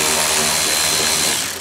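Power tool whirring steadily while backing out 8mm screws on a 2019 BMW, a loud, close, continuous motor buzz that winds down at the end.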